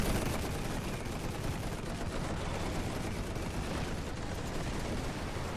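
Dense continuous machine gun fire in The Great War 6.0 game, a relentless rattling barrage with overlapping shots and distant rumbling, steady and moderately loud throughout with no talking.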